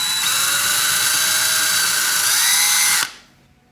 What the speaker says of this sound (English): Now we take our drill bit, try to finish it off.